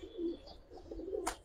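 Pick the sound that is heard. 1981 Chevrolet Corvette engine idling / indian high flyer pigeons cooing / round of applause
indian high flyer pigeons cooing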